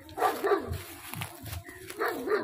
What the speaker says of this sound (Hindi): कुत्ते वेख के तो कुत्ता जनाब काबू नहीं आता